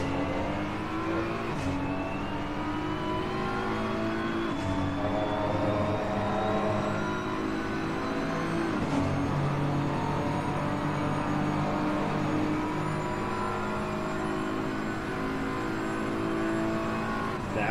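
Race cars lap the Barcelona circuit in a racing video game, engines droning and rising in pitch through repeated upshifts, with cars passing close by in a continuous loud whine.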